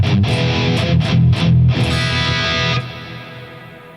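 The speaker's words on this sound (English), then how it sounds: "this has this big reverb happening" Electric guitar plays several bright, distorted chords with heavy reverb, the last one ringing out and fading slowly into a long tail.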